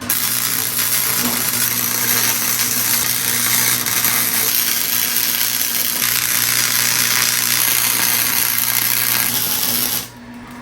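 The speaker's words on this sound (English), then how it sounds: "Welding is cool, I'm a welder." Continuous loud buzzing and crackling of welding on a homemade trike frame, steady and close for about ten seconds before cutting off abruptly.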